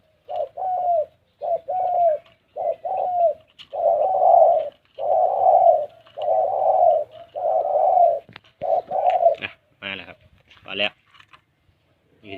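A small-to-medium-voiced decoy dove coos in a long run of repeated phrases, fairly close and loud, with a few sharp clicks and bursts near the end.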